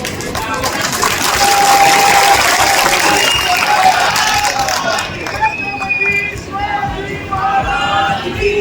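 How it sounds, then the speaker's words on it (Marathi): Audience at an outdoor political rally clapping and cheering, a broad crowd roar with scattered shouts and whistles that swells early then eases slightly, loud and close. "जरा टाळ्या वाजल्या गेल्या पाहिजे"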